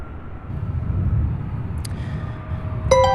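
A UPS heavy freighter aircraft at SDF airport, a low, broad jet rumble that swells and eases in the distance, with brief electronic beeps breaking in near the end.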